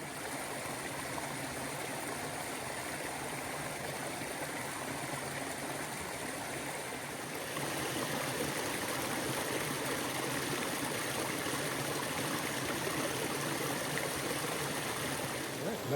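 Steady rushing of a mountain stream on the Appalachian Trail in Maine, water flowing continuously over rocks, fairly close and loud, growing slightly fuller partway through.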